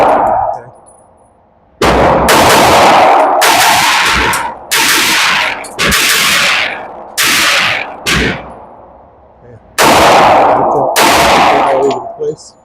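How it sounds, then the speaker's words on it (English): A Sig Sauer P320 xFive DH3 ported pistol with a Spectre comp fires at a range target: about nine loud, close, sharp shots with ringing decays, in irregular quick pairs and singles. "we're going to be on that left target, and we're just going to shot first, see where we are"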